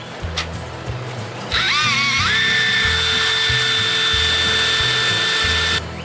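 A drill bores out a broken stainless grease nipple from the aluminum steering bracket of a 1975 40 hp Evinrude outboard, a loud sustained high whine rising as it bites in, then holding steady before stopping abruptly.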